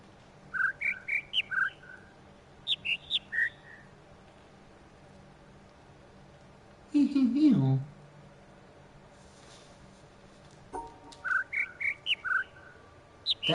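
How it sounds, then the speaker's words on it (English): Two birds in The Witness puzzle game sing short bursts of high chirping notes that repeat in small groups, separated by a brief lower warbling passage and quiet gaps. "There's two birds"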